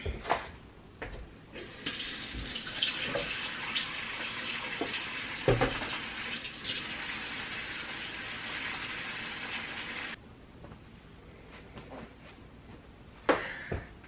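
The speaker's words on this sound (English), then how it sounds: "let me wash my hands" A tap runs in a steady, hissing stream over a sink as hands are rinsed of a papaya face mask. The flow lasts about eight seconds at close range, then stops, leaving faint clicks and bumps.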